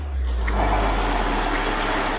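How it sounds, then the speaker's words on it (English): A lidded blender grinds peanuts, cocoa, condensed milk and butter into a thick paste, giving a loud, steady, continuous motor whir with a deep hum throughout. "put it into the blender and turn it on"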